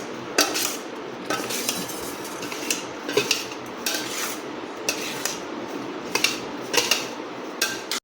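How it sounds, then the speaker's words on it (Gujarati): A spoon scrapes and clinks against a metal pot while spice masala is stirred into sweet mango pickle, a close, steady run of rhythmic stirring strokes with sharper taps every half second or so. "સારી રીતે મિક્સ કરી લઈશું।"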